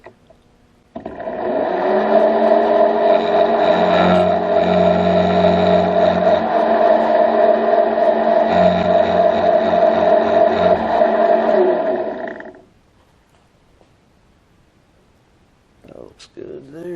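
A power tool chamfers the teeth of a gear in a workshop, a loud steady high-pitched whine that runs for about eleven seconds and then stops, with faint clicks at the end.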